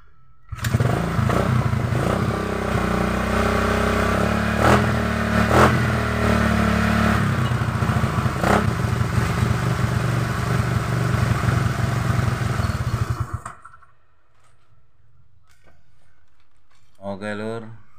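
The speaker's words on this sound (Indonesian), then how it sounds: "Kita akan coba menghidupkan mesinnya." An older Honda Vario 110 scooter engine starts and runs at a steady idle with clattery mechanical noise and a few blips, close and loud, for about thirteen seconds before cutting off, followed by quiet and brief handling noises.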